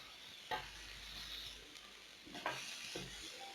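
Burger ingredients with cheese and a slice of tomato cook in a pan, giving a faint, steady sizzle with a couple of soft stirring scrapes.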